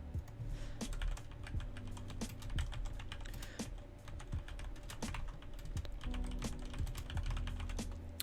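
Rapid, uneven clicking of fingers typing on a computer keyboard, close and steady for several seconds with no talking.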